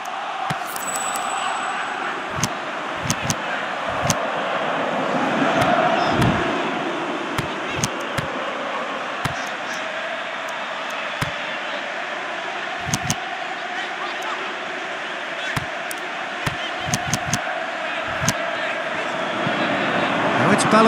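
A stadium crowd murmurs and swells throughout a Pro Evolution Soccer match. A broad, steady roar sits under a commentator's voice, with scattered sharp knocks of ball strikes cutting through.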